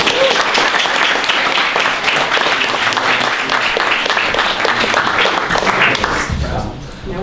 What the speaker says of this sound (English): give a round of applause for Jamie.